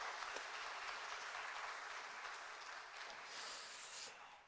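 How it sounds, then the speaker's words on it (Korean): A church congregation applauds steadily in thanks for the volunteers who prepared lunch, a dense, even clatter of many hands filling the room without letting up. "우리 아가페 위원 위에서도 감사의 박수를 한번 보내겠습니다"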